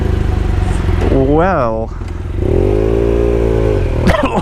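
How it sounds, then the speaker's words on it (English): Motorcycle engines starting and revving aboard a ferry from Italy, loud and close with rising and falling revs amid clattering, while a person speaks briefly. "everyone's starting their bikes up again"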